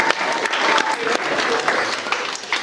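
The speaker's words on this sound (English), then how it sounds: "Can we have a quick round of applause for the stars of the today, the page boys and the flower girls" Guests at a wedding reception clap in a short, dense round of applause for the page boys and flower girls, with faint voices mixed into the crowd noise.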